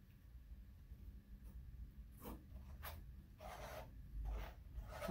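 Paint scraped across a canvas for a pull-chain butterfly painting, heard as a few soft, rasping strokes, the loudest after the two-second mark, close by and faint, with no talking.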